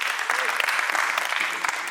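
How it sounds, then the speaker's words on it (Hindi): Steady, dense applause from a mushaira audience welcoming a poet on stage, loud and sustained for the whole stretch with scattered louder claps and no voices over it. "जोरदार तालियों से इस्तकबाल करें"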